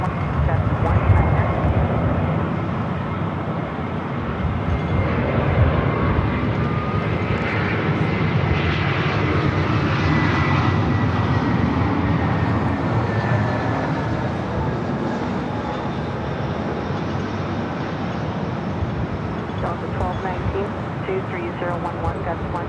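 An airliner taking off from runway 24 left at Los Angeles International Airport roars loud and continuously, its jet engine noise swelling and holding, with a faint voice partly under it.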